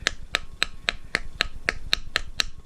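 Valve stem seal on a 2.0L Audi FSI cylinder head tapped down with a 10mm socket, about nine crisp, evenly spaced light metallic taps in quick succession, close up and with no talking.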